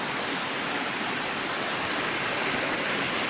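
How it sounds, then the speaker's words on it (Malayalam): A large waterfall pours in a steady, full hiss and rush, close and unbroken throughout, with no voices. "ഇതേ വലിയൊരു വെള്ളച്ചാട്ടം"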